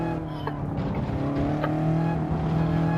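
A race car engine on a Nürburgring lap in Gran Turismo, a loud, steady droning howl holding a nearly constant pitch with slight wavering, close and continuous, with no talk over it.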